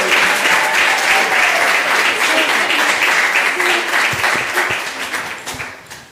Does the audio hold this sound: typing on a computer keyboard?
no